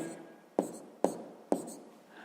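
Pen strokes while writing down a sixth-grade math exercise answer, three sharp scratchy onsets about half a second apart, each trailing off, close and quiet with no talk.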